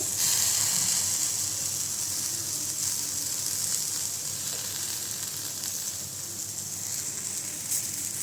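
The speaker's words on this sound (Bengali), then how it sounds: "এই যে আমার পটল ভাজা হয়ে গেছে" Vegetables frying in oil in a home kitchen give a steady, close sizzling hiss that runs evenly throughout, with no talking.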